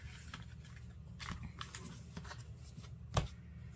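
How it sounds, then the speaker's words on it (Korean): A deck of tarot cards shuffled by hand gives a steady close rustle and riffle, ending in one sharper slap of cards, with no voices. "제가 조언 카드를 한번 뽑아 볼게요"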